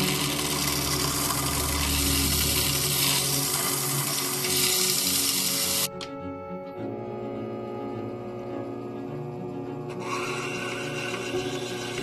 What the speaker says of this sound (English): This die took 10 times longer than usual to rough grind